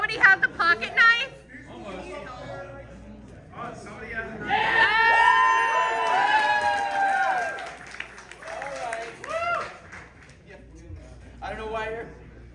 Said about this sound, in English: I don't know why you're cheering here.